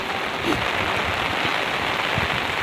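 Heavy rain pouring steadily over a village in Solok regency, West Sumatra, a dense, even hiss of drops striking surfaces close by, continuous throughout with no voices.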